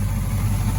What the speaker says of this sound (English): The exhaust sounds like a Corvette, everything.